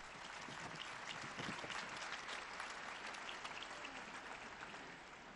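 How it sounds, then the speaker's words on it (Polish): Large crowd applauding a newly beatified woman at a papal general audience, sustained dense clapping spread across a wide open space, fairly distant and even throughout, with no speech over it. "Proszę o oklaski dla nowej błogosławionej."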